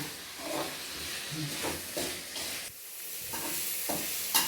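Onions sizzling and hissing in a hot pan while being stirred, a steady close frying crackle with soft scraping strokes and no talk.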